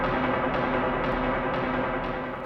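Footfall-style impact noise from 5 mm EVT flooring without underlayment on a concrete slab, heard from below as a steady broadband roar with regular tapping pulses about every half second, fairly loud and continuous.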